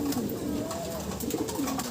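Racing pigeons coo in a loft, soft repeated low coos close by, steady through the short stretch with faint background noise and no clear talk.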